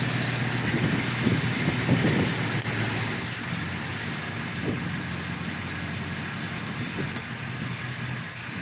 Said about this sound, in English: It idle like it's supposed to.